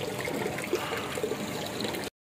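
Water streams and trickles steadily into a water can from a water truck outdoors, a continuous close splashing pour lasting about two seconds before cutting off.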